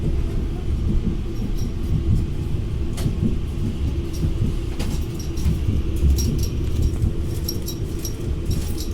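An Auckland Western Line train rumbles along with low rolling noise, rattles and occasional clanks, holding a steady loud level as it slows to a stop.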